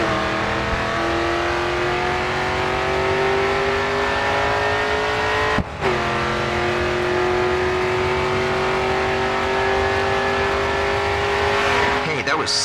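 A race car in the Grid 2 racing game roars at full throttle onto the final straight, with a loud steady high engine whine, a quick gear shift midway and continued climbing revs.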